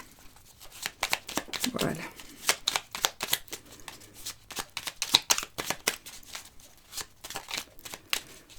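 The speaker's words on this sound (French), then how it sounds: "Elles sont super difficiles à mélanger, cette carte-là." Oracle cards being shuffled by hand in a deck that is hard to mix, giving a rapid run of close, crisp riffling flicks and soft card slaps throughout, with a brief spoken word near the end.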